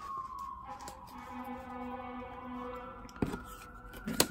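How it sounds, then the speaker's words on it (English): Fire truck sirens wail outside at a distance, faint rising and falling tones drifting through a quiet room, with a couple of sharp clicks near the end. "There was just a fire truck and sirens going around."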